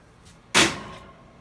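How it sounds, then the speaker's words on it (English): A kitchen oven door swings open with one sharp, close clack followed by a short fading whoosh, set against a quiet room. "Open the oven door."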